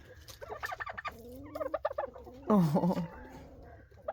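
Turkeys gobbling in a rabbit barn on a frosty farm morning at feeding time, a loud burst of gobbles and fowl calls rising midway, with a person speaking briefly around them.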